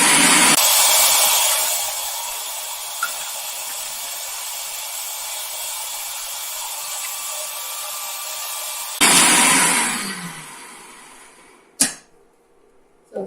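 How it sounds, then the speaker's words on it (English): A blender whirs loudly at a constant pitch as it purees spinach artichoke dip, then surges briefly, winds down and stops, followed by a sharp knock and quiet. "And just let it continue to blend until it's nice and creamy."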